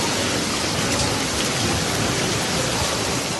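A violent hailstorm strikes the town of Alcarràs in Lleida province, Catalonia, Spain: a dense, unbroken roar of ice pelting surfaces at steady high volume, with no voices heard.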